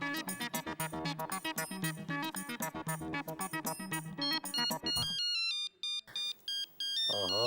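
A repeating electronic mobile phone ringtone melody plays loudly and steadily, then gives way to a few short beeping tones near the end.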